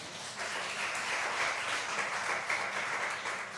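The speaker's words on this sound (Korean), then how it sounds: "박수하겠습니다." A church congregation at a Korean church service in Madrid bursts into steady, full applause, dense clapping filling the room for several seconds without talk.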